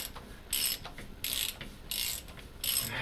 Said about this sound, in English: taking off these manifold bolts.